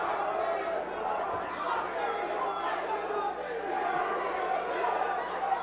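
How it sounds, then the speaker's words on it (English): A crowd at a live MMA event in Spartanburg, South Carolina keeps up a continuous, moderately loud roar of shouts and chatter with no clear peaks. "And listen to that crowd get into this."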